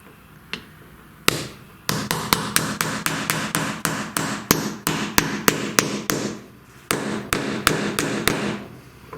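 Repeated sharp hammer taps through a block of wood, driving a part into a spindle motor mount, a quick steady series of about twenty close, loud knocks with a brief pause midway.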